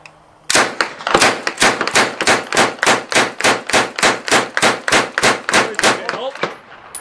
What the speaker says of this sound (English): It fires from an open bolt, so every time this comes forward, it fires.